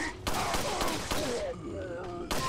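Repeated gunshots in Resident Evil 4, a quick series of sharp reports over game ambience, moderately loud, with a voice talking faintly beneath.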